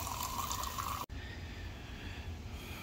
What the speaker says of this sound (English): We're going to fill up the cup.